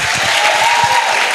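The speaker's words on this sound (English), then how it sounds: "Let us clap for him." An audience at a polytechnic student election event claps for a Christian Union representative, a brief, close burst of many hands with low thumping beats under the crowd noise.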